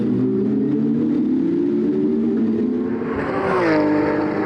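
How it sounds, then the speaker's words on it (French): Porsche race cars, including two fluorescent-yellow ones, racing at the Val de Vienne circuit, with loud engines rising in pitch as they accelerate and sweeping past nearby in a continuous roar. "la lutte fait rage d'entrée entre les deux Porsche jaune fluo de l'équipe Restivity"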